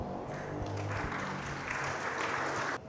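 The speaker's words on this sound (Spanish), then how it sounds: "Entonces recibámoslo con un aplauso, por favor" Audience at a tech talk on AI in gaming and web development applauds to welcome a speaker, a brief, fairly quiet patter of clapping that cuts off abruptly.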